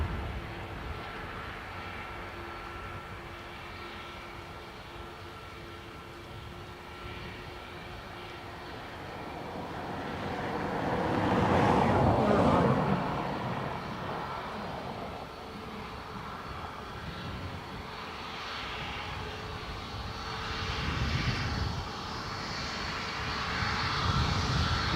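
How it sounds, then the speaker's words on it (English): Boeing 787 Dreamliner airliner departing Dublin Airport for Philadelphia, a loud sustained jet engine roar that swells to a peak midway, eases, then builds again toward the end. "So, Dreamliner to Philadelphia."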